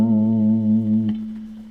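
A sustained guitar chord through a tc electronic Drip spring reverb pedal, with a shimmering, wet reverb tail that rings on after a soft pluck near the end.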